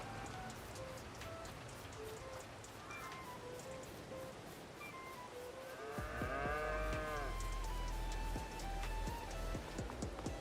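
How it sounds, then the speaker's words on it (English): Cattle lowing in a shed in Farming Simulator 22. Several long moos and overlapping calls fill the second half, close and fairly loud, over a steady patter like rain on a roof. "Why are there cows in the middle of my shed?"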